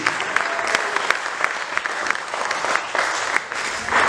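Church congregation applauding and cheering at an evangelical service: steady, dense clapping from many people with scattered louder claps, swelling slightly at the end, with faint voices mixed in.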